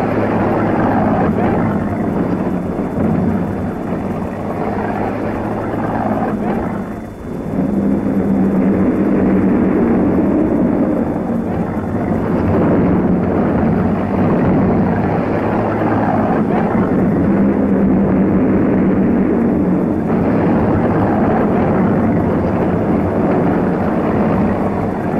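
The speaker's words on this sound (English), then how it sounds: "Nazi planes with machine guns spitting." WWII German warplanes attacking Moscow: a loud, continuous roar of aircraft engines that drones steadily through the whole stretch, dipping briefly once before surging back at full strength.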